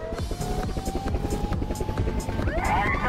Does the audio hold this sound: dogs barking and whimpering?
no